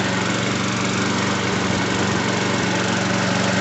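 A freshly tuned-up lawn mower engine runs steadily at close range, a loud continuous buzzing drone with no pauses or talk.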